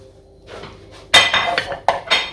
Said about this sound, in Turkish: Ben sana tabak getirdim şöyle.